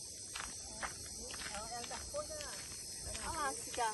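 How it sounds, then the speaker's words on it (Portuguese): A cicada sings in a park, a steady high-pitched buzz that runs unbroken through the whole stretch, with softer chirps and rustles scattered underneath. "Olha lá a cigarra. Tá bem ali, ó."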